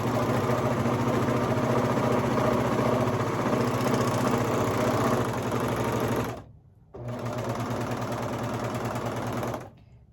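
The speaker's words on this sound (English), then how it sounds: "when you're serging, you don't have to put the pedal to the metal" A serger sewing machine stitching baby leggings runs in a fast steady whir close by, stops briefly, then starts again and runs on before halting, with no talk.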